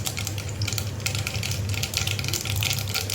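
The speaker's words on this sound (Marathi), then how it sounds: "राई तडतडले व्यवस्थित" Mustard seeds crackle and pop in hot oil in a pan while cooking an ivy gourd and field bean dish, a dense, steady spitting crackle over a low stove hum.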